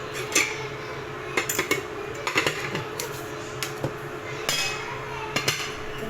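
A coconut shell is handled against a plate, making several sharp hard clinks and knocks in irregular bursts, close and fairly loud over a quiet room.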